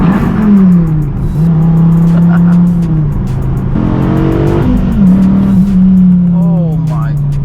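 A Dodge Viper sports car's engine drones loudly from the cabin while driving, its pitch climbing and dropping through several revs toward redline, with a voice talking over it.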